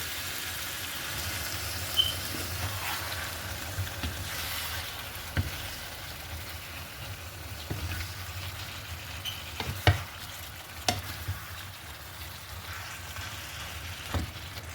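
Chicken gravy bubbling and sizzling in a pan after half a glass of water is added, a continuous soft hiss with occasional sharp spoon clicks and scrapes, close and steady throughout.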